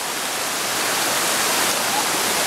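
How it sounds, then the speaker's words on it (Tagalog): Batya-Batya falls at Mt. Romelo pours in a steady, dense rush of water, loud and constant throughout with no breaks. "Ayun falls, oh."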